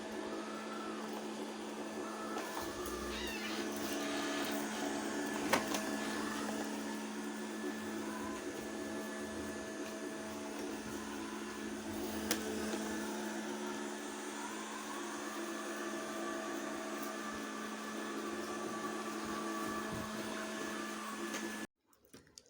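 A Total robot vacuum cleaner runs indoors with a steady, loud motor whine and brush hum, holding even throughout before cutting off abruptly near the end; no one talks.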